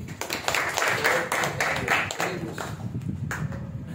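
Students clapping hands together in a classroom, a dense run of sharp claps repeating steadily and fairly close at moderate loudness, with faint voices mixed in underneath.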